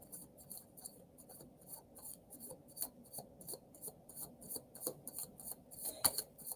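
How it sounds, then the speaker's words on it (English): A Deviant Moon tarot deck being shuffled, with a rapid, steady patter of crisp card riffles and soft papery flicks, close and fairly quiet, with no talking. "Let me give it another shuffle"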